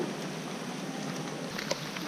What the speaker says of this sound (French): la pluie, elle s'énerve